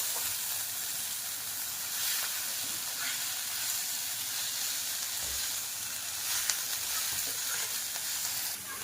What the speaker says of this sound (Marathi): परतून घ्यायचं आणि ह्याची एक वाफ काढायची